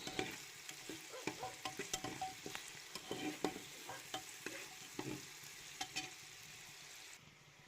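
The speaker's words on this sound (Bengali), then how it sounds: "এখন দিয়ে দিচ্ছি টমেটো কুচি" Chopped tomato fries with ginger in a pan. The quiet sizzle comes with a rhythmic run of stirring scrapes and taps, evenly spaced through the clip, and no one speaks.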